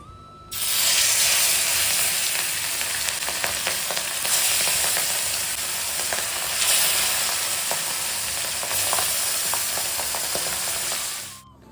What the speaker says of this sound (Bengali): কালো জিরা ফোড়ন দিয়ে নিলাম